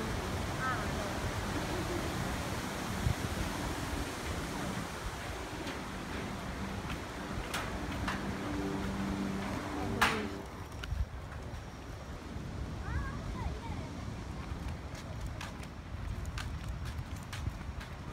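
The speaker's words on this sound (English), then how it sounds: "small waterfall" A small waterfall at Iguazu in Argentina, a steady broadband rush of falling water heard from nearby, with footsteps, light wind buffeting and occasional voices on top.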